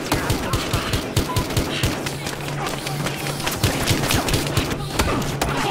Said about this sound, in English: Shots fired here.